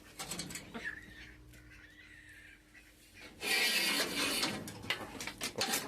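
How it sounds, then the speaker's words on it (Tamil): Harsh, rasping guinea fowl calls break out loudly and repeatedly in the latter half, after quieter chirps and rustling, with no talking. "இந்த கின்னி கோழி ரொம்ப ராவடி பண்ணுது"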